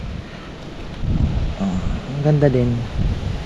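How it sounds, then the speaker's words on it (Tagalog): Strong wind gusts buffet the microphone outdoors by garden beds, a steady broadband roar that swells louder midway through, while someone speaks briefly over it. "ang lakas po ng hangin"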